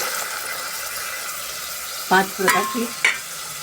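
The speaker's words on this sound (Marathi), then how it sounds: "आता ह्याच्यात मी उकडलेला भाजी सर्व घालणार." Boiled vegetables go into a pan of sautéed onions, with a soft, steady sizzle followed by a few louder splashy clatters and stirring scrapes near the end.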